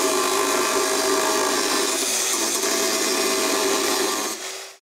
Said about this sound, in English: grind these off and again grind the latch mechanism off